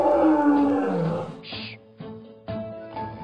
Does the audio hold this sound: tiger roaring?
yes